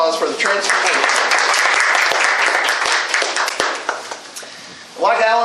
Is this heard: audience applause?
yes